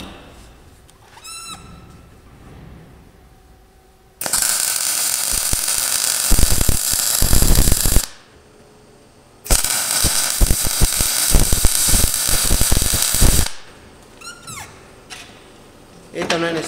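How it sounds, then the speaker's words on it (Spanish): Electric arc welding on a trailer hitch with a hydraulic brake: two loud bursts of crackling, hissing arc lasting several seconds each, separated by quieter pauses. "Y ahí podemos soldar."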